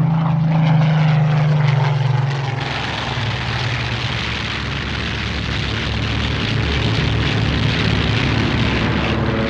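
A WWII metal-framed monoplane fighter roars past with its propeller engine, a loud sustained drone that holds steady for the whole stretch, with a lower throb early on and no voices.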